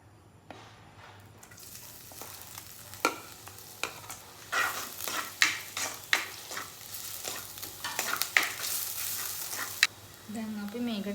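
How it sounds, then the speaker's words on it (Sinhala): Garlic dropped into hot oil for a traditional Sri Lankan brinjal moju sizzles and crackles, with a spoon stirring and scraping the pan in irregular bursts. The sizzling grows louder and busier toward the end. "අපි දැන් තෙල් ටික රත් වෙනකොට අපි උගුරු සුදු ලුණු ටික ඉස්සෙල්ලම දාගමු"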